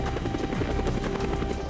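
A rescue helicopter flies nearby with loud, steady rotor chopping over a constant engine whine, filling the whole short stretch without speech.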